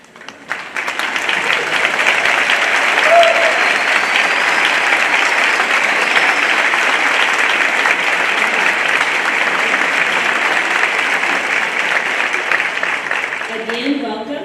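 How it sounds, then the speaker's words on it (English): A large crowd applauds steadily for about fourteen seconds at an opening celebration, a dense wash of clapping that swells quickly and holds before tapering at the end. "will you please stand so we can give you a round of applause?"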